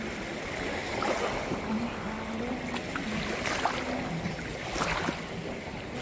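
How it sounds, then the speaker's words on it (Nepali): Sea waves wash onto a beach on Phi Phi Island, a steady near wash of surf and rushing water with soft swells, moderately loud, no clear talking. "पानीको छालहरू यहाँसम्म आएको छ"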